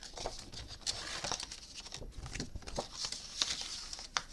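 Paper for handmade birthday cards is cut with scissors in quick, quiet snips and soft rustles, close by, with faint crinkling between cuts.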